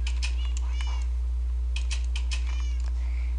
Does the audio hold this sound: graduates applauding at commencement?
no